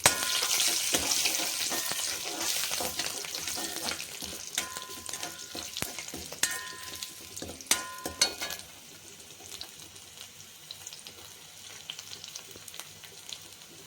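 Curry leaves and crushed garlic sputter in hot oil for a Chettinad cabbage and potato masala. A loud crackling burst at first settles into a steadier sizzle, broken by stirring clatter and a few sharp clicks.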